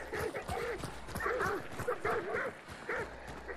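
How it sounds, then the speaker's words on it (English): Dogs in a video game yip and bark in short repeated bursts over a steady background hum, moderately faint, with some whimpering tones mixed in. "Oh, dogs."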